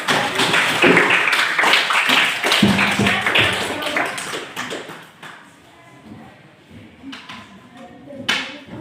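Students in a classroom applaud a group, loud mixed clapping and taps for about five seconds before dying away into a quiet room with a few scattered knocks.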